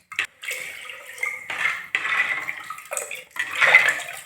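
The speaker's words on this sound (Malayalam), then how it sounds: "അപ്പോൾ നമുക്ക് വെള്ളം ഒഴിച്ച് കൊടുക്കാം" Water is poured into rasam in a clay pot. Several short, close splashy pours come in bursts with small clinks of the vessel between them.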